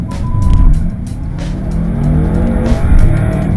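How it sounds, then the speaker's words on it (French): A BMW M5 in sport mode with stability control off accelerates hard, its engine roaring loud and close with a rising pitch and tyre noise, no voices over it. "on passe tout en mode sport. La direction, les suspensions, la gestion du moteur"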